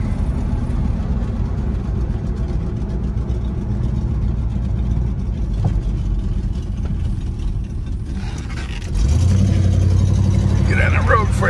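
A 1967 AMC Marlin car running on the road, its engine giving a steady close rumble that grows louder and rougher near the end, with a voice talking over it.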